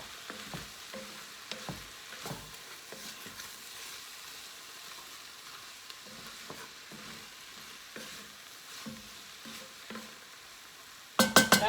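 A spoon stirs a chicken and rice mixture in a pan, soft scraping strokes and light sizzle repeating at a steady pace, fairly quiet, ending with a few louder clatters.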